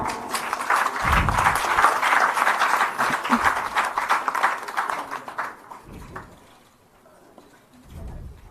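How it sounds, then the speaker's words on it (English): Audience applause at a ceremony for the signing of an MoU between the Goa government and a skilling startup, a broad steady clatter of clapping that thins and fades out over the last few seconds. "let us welcome this moment with a round of applause"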